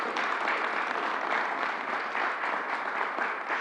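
An audience at a New York City event with the governor breaks into sustained applause, a steady, even roar of many hands clapping throughout, fairly close and unbroken.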